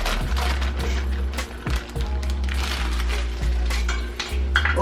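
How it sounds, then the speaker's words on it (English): String beans tumble into a pot of water with sauteed onions and bacon, producing a loud run of clattering thumps and rattles against the metal, close and alone. "So I'm gonna drop my string beans in here."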